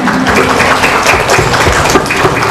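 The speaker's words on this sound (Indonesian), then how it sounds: "Iya, tepuk tangan." Audience applause at a public recital by a Quran-memorization kindergarten, a dense, steady wash of clapping that runs loudly and evenly throughout with no clear talk over it.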